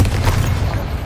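A Confringo blasting curse explodes in the Hogwarts Legacy game, a loud, deep booming blast with a sustained low-end rumble that fills the whole short moment, with no talking.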